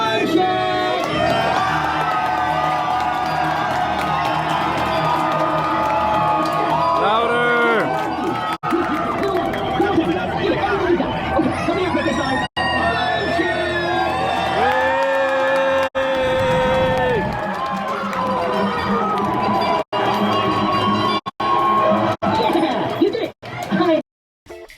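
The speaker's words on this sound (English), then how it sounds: "Everybody will all cheer and clap our hands as loud as we can." A large crowd cheering, whooping and clapping, loud and sustained with shouts and excited voices throughout.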